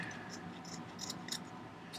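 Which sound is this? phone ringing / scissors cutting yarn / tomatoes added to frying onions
scissors cutting yarn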